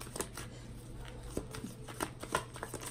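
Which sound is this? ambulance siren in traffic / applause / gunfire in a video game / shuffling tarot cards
shuffling tarot cards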